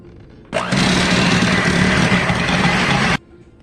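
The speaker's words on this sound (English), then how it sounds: "Now you want to mix and cream this up really good." Electric hand mixer creaming cake batter with vanilla extract for a boxed coconut cake, a steady loud whirring drone that starts abruptly, runs unbroken for under three seconds, then cuts off.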